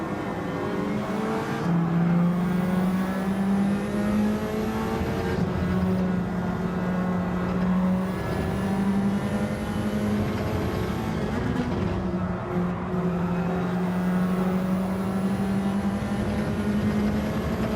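Race car engines drone loudly and continuously in Gran Turismo 7 lobby racing, the pitch climbing and dropping through gear changes as several cars run close together.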